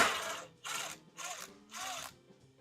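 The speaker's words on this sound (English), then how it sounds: "take out one of these screws" A power drill or driver backs a screw out of a wooden coffin-shaped shelf in a woodworking shop, with four short whirring bursts separated by brief pauses, close and fairly loud.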